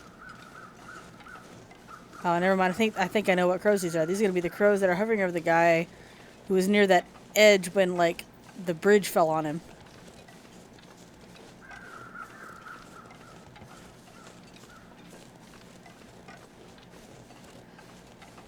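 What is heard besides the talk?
crows cawing, video game The Long Dark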